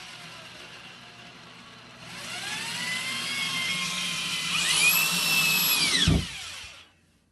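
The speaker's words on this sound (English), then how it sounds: "use the screws to apply the foundation piece into the drywall and into the stud as well" Power drill driving a screw through a foundation piece into drywall and a wooden stud: the motor whines up in pitch, runs steadily for several seconds, then stops with a thump as the screw seats, close and loud.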